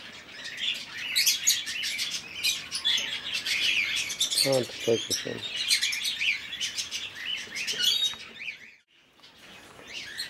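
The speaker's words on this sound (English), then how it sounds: "There's some badgies." Budgerigars in an aviary chirp and twitter constantly in a busy high chatter, with a few louder calls close by and a brief spoken remark partway through.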